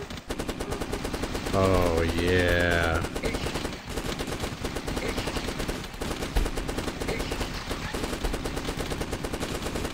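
Machine-gun fire from The Last Stand video game rattles steadily for the whole stretch as a dense, continuous stream of shots. A voice calls out briefly over the gunfire.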